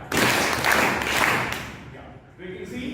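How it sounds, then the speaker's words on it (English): An audience at a Toastmasters public speaking club claps in unison, a loud burst of rhythmic hand claps close by that fades, followed by scattered quieter sound. "You have to clap 3 times in this same rhythm."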